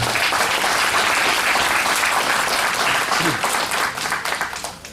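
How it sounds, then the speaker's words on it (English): Loud, sustained applause from the crowd at a 4-H/FFA steer and market hog show, following the placings in the show ring. Dense clapping fills the stretch and thins out toward the end. "Let's get them a round of applause."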